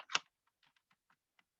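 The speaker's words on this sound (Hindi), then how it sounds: "1 मिनट मैं अपना भाई कीबोर्ड टच कर लेता हूँ।" Keys on a computer keyboard tapped a handful of times: one louder clack, then six or seven soft, irregular clicks, close and quiet with no voices.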